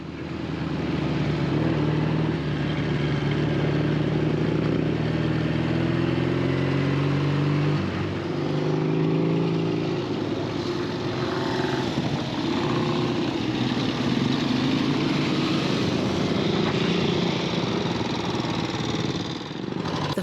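A Velocette KSS motorcycle runs on a tight circuit, its engine a steady, loud drone with no talk, the pitch shifting and settling around the midpoint as it changes pace.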